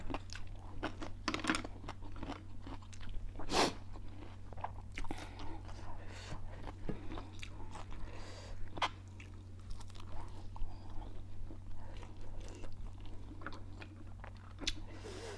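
Crunchy chewing and biting of spicy Thai papaya salad with fermented fish, with repeated close mouth sounds and wet crunches over a steady low hum throughout, and occasional faint voice-like sounds.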